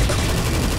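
Rapid gunfire from a gun in the brutal multiplayer game Chop, a dense burst of shots blurring together, loud and close, lasting under a second.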